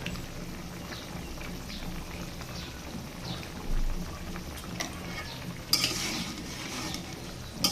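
A pot of curry broth with flat beans and potato boils steadily, giving off a constant soft bubbling and sizzling hiss with a few brief clinks and louder spatters.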